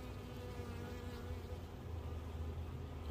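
A honeybee swarm being moved bare-handed into nuc boxes drones in a dense, steady buzz, close and continuous, with no talk over it.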